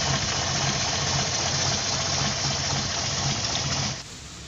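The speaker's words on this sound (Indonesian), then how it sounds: "untuk kondisi suara mobilnya juga, mesinnya juga masih bagus" The engine of a 1976 Toyota Corona classic car idles in a steady, close, even rumble that holds at one level and then cuts off abruptly near the end, with no talk.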